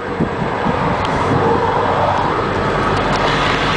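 Ford E450 van bus limo with a 7.3 diesel engine driving, a loud steady road and engine rumble with wind noise close to the microphone, no talking.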